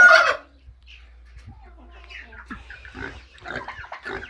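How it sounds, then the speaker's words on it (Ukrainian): A farm pig grunts and snuffles at moderate distance among feeding chickens, low irregular grunts following a brief loud squawk at the start. "Трошки противна в нас свиня."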